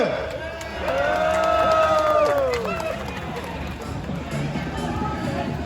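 Crowd cheering and clapping at a motorbike event, the Cub Prix race in Batu Kawan, with loud swelling cheers and whistles early on, then steady applause and hubbub continuing to the end.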